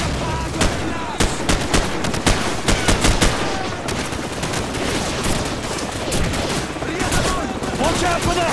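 Dense, loud gunfire from the video game Call of Duty 4: Modern Warfare in a firefight across a field, with rapid machine-gun bursts and sharp single shots cracking continuously and voices shouting underneath.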